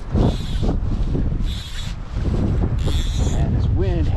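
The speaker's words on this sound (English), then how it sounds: "this wind has not let up" Gusty wind buffets the microphone while fly fishing in the Eastern Sierra, a steady low roar with surging bursts throughout.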